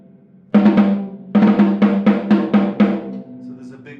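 An open snare drum with the snares off gives one hollow, tonal hit, then five more in quick succession. Each stroke is close and loud with a boomy body and no rattle, followed by a short decay.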